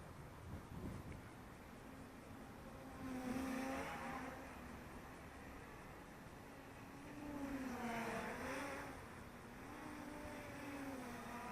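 A small Bugs 6 FPV quadcopter drone flies line of sight. A thin motor whine swells and fades in two passes, rising and falling in pitch, heard from a moderate distance with no talking.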